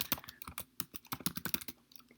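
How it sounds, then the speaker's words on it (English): Rapid, close-up keystrokes clatter on a computer keyboard in a quick, uneven burst of crisp clicks. "I'm going to type this out"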